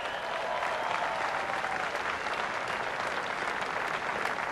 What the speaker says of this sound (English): let's give him an even bigger round of applause